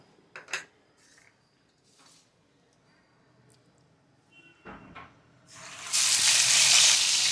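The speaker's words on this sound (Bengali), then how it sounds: "কড়াইতে বেশ খানিকটা তেল দিয়েছি দিয়ে এবার আমি মাছটা এখানে ভেজে নেব" A few clanks of cookware, then fish hits hot oil in a wok with a sudden loud, sustained sizzle that fills the last seconds.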